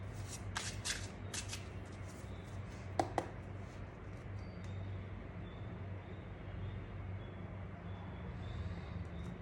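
A tarot deck is shuffled quietly, with a few soft riffling bursts early on and a couple of sharp card snaps, all over a low steady room hum.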